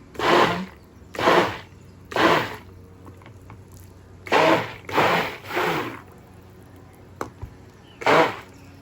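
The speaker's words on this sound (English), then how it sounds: "this is the blender I'm taking" An electric blender mixing liquid soap whirs in six short bursts of a second or so each, separated by pauses, with faint clicks between them.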